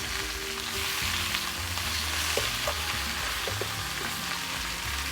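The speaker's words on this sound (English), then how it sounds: "So if you're not getting the sizzle, you need to turn up the heat." Steady, loud sizzling of lamb rack and loin frying in a hot pan, crackling continuously with faint low background hum and no voices.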